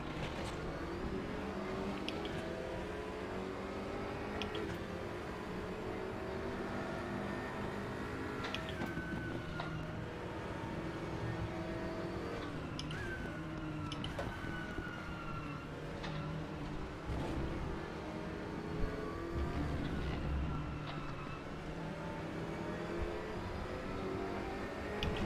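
Porsche race car engines in a racing game, a continuous loud drone of several cars with rising and falling revs and sharp gear shifts across a long stretch, no talk heard.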